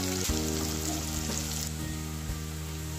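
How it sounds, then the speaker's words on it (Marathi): Sliced onion frying in hot oil for paneer biryani, a continuous close sizzle with occasional stirring scrapes against the pan and a steady hum underneath, no voices. "कांदा चांगला परतून घ्यायचा आहे।"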